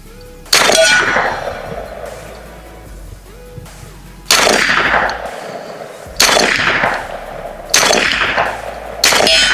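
A BinTac S45 .45 caliber semi-auto airgun fires five loud, sharp shots at uneven intervals, each followed by a ringing metallic clang from the target and a decaying echo.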